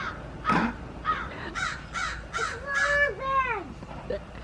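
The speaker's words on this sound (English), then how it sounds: "there's 2 birds up there on that house. And they're like all screaming at each other" Several harsh crow caws ring out in quick succession, overlapping like two birds calling back and forth, moderately close.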